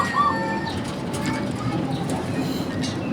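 Adult zebra doves kept in cages at a bird breeder's yard coo faintly in soft repeated calls, set against a broad rumbling background with occasional sharper chirps.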